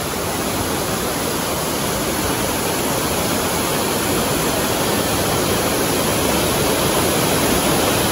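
Bolinao Falls number 3 in Pangasinan roars as a loud, continuous rush of falling water, dense and steady throughout with no voices.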